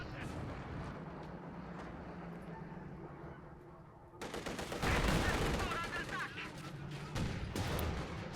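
Machine gun fire and other gunfire from the real-time strategy game Company of Heroes 2, including an MG42, rattling steadily throughout and swelling into a louder, denser burst of battle noise partway through, with commentary talking over it.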